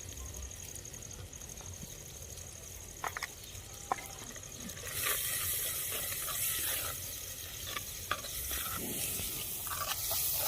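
A vaghar tempering for tuvar curry crackles and sizzles in a pan, first soft with a few stirring clicks, then swelling into a louder, denser fry that holds steady, with no talking.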